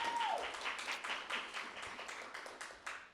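An audience at an evening open-mic sharing event claps steadily for about three seconds, a dense, even patter of many hands close by, with a brief voice at the start.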